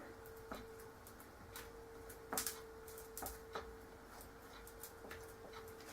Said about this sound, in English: If you hear a ticking noise, that's the sound of my clocks.